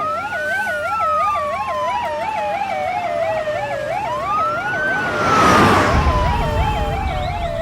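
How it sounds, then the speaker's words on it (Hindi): An ambulance siren wails loudly and close in a dramatic street scene, its rising and falling tone mixed with a rapid warbling yelp, with traffic rumbling underneath and a louder rush as the vehicle passes. "हाँ एम्बुलेंस।"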